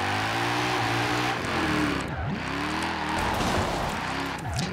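A 2007 Alfa Romeo 8C Competizione drifting on slick tires in Forza Horizon 4, engine droning steadily while tires squeal with swooping pitch dips as the car slides, loud and continuous with no talk.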